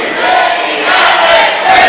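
A wrestling crowd at a CZW event split in loud chanting for Jun Kasai and Danny Havoc, a dense sustained roar of voices with rising cheers, close and filling the space.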